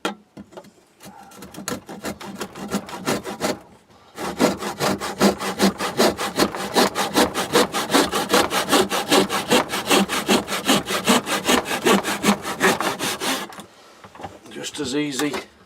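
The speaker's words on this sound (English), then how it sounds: "we can cut them out on the tenon saw as well" A tenon saw cuts through a piece of scrap wood in steady, rapid back-and-forth strokes, loud and close, with a brief pause near the start and a few final strokes after a short gap.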